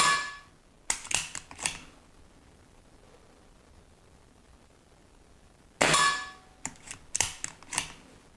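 A Diana Bandit air pistol fired in two bursts of sharp cracks, each a quick cluster of loud metallic snaps, separated by a long quiet pause.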